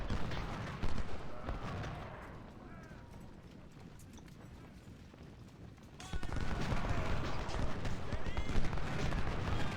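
Massed musket volleys crackle through a Civil War battle at Potomac Fort in a realism-modded strategy game, dense overlapping shots rolling on and swelling louder partway through, with voices and battle noise mixed in.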